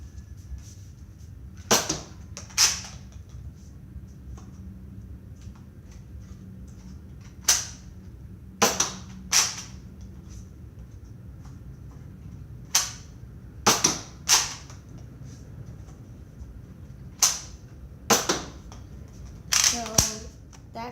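A Nerf modulus gun fires repeatedly, giving sharp, close snapping clicks, some singly and some in quick pairs, spread across the recording over a quiet background with faint speech.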